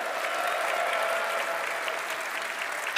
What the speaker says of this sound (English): Let's hear it for the sponsors for this event here.